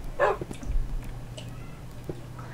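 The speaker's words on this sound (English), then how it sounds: "Hey look, it's a puppy." A dog in the Minecraft video game barks a few short times in quick succession, close and clear over a low background hum.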